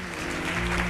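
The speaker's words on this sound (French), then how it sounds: "vous regardez toutes celles et ceux qui sont debout et vous les applaudissez" Seated audience at the MT180 2024 national final at ULB applauding those standing, a brief, even wash of clapping from a crowd.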